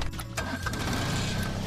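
A tractor engine starting up on a farm, a brief starter crank giving way to a steady, close, low running rumble that carries on for the rest of the moment.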